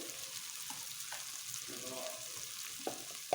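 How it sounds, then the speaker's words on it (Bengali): Slit green chillies frying in oil toward light brown, a faint, steady sizzle with occasional soft stirring knocks and a small clatter at the end. "কাঁচা লঙ্কা চিড়ে নিয়েছিলাম, এগুলো হালকা ব্রাউন কালার করা পর্যন্ত ভেজে নেব"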